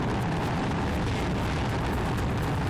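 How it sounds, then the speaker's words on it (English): A Proton-M rocket crashes and explodes, a continuous heavy rumbling roar, loud and unbroken throughout with no voices. "The rocket breaks apart just seconds before impact, and the incredible explosion is felt as far as 35 miles away."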